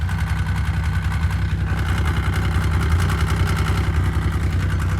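A Yamaha 1000 snowmobile engine runs steadily nearby with a deep, rumbling low-end throb that holds an even, idling pulse throughout, set on a snowy winter logging trail.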